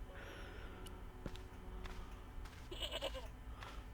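A goat in the point-and-click adventure game Broken Sword bleats briefly, a short wavering cry in the middle, set over a quiet ambient game background with faint scattered clicks.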